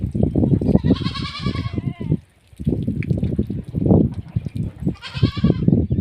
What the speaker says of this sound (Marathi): बघा आपल्या शेळ्या